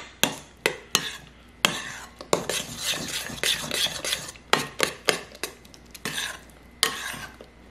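A utensil stirs rehydrating freeze-dried sweet potatoes in a bowl, with repeated sharp scrapes and clinks against the dish in an irregular rhythm, close and fairly loud, with no talking.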